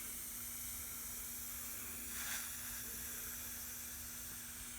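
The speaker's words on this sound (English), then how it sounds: "So basically, you're generating steam and trying to expand the wood fibers." Steam hissing as a soldering iron is pressed to a wet spot on the wood of an Ovation-style guitar build, a faint steady hiss that swells briefly near the middle over a constant low electrical hum.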